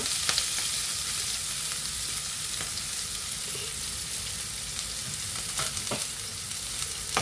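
Sliced onions fry in hot oil in a pan for a talimpu tempering, giving a steady, close crackling sizzle with scattered sharp pops throughout and no voices.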